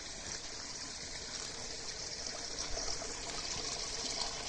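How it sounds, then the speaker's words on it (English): Steady water trickling and flowing into an underground drain in a flooded back yard below a small mountain in Japan, a continuous even rush of moderate loudness with no voices. "the water is flowing under there"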